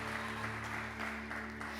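A church congregation claps steadily, a dense burst of applause over a sustained organ-like musical drone.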